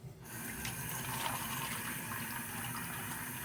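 Water runs from a hotel bathroom tap into a container, a steady rushing gush that starts abruptly and continues evenly, close and moderately quiet.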